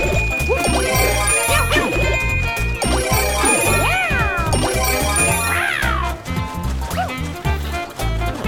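Bright chiming jingle of the bell power-up pickup in Super Mario 3D World, ringing out over upbeat game music with sweeping tones, loud and close with no talking.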